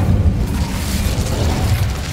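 An Incendio fire spell effect: a loud, continuous low roaring whoosh like a flame burst, rumbling steadily throughout with no voices.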